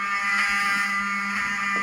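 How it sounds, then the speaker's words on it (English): A fire alarm sounding in a room, a loud, continuous piercing electronic tone with steady buzzing harmonics, filling the space with no break. "I want him to hear the fire alarm."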